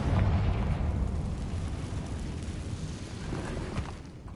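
Confringo blasting spell in Hogwarts Legacy going off as a loud booming explosion with a rumbling burst at the start, then a sustained roaring blast that slowly fades over several seconds.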